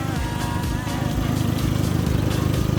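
Peugeot 206 petrol engine idling under an open hood, a close, steady, even mechanical hum with a fast regular pulse and no talk over it.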